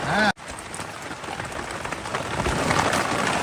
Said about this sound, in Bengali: বৃষ্টি কিন্তু পড়ছে